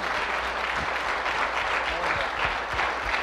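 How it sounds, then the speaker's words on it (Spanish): Congregation at a church service breaking into strong, steady applause, a dense wash of many hands clapping throughout, close and loud with no talk. "A quien le damos un fuerte aplauso."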